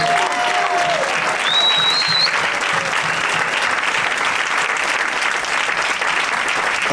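Strong, continuous clapping from a large church audience, a dense even wash of hands that holds at full strength for several seconds, with a faint voice and a tone early on.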